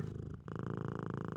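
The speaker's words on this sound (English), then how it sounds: "rewarding him with a loud purr" A fluffy cat purrs loudly and close, a steady rhythmic rumble that pauses for an instant and then continues alone.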